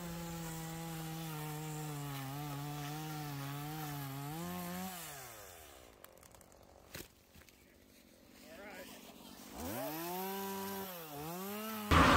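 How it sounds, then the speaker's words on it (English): A nearby chainsaw runs with a steady buzzing drone for several seconds, then winds down and stops. After a quiet pause with small knocks, it revs back up in rising and falling surges. "I'll get the chainsaw."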